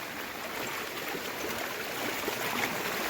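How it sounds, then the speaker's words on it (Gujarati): A strong river current swollen after heavy rain rushes past in a steady, dense wash of flowing water that holds at an even level throughout, with no voices heard. "એવું પાણી જાય છે આપણે પોસડું પોસડું પકડવું પડે એમ લાગે છે કારણ કે જો અહીંથી બહુ તાણ છે"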